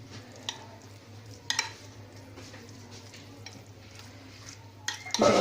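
Potatoes stirred in a pan, a spoon scraping steadily with a few sharp metallic clinks against the pan, faint sizzling underneath and no voices.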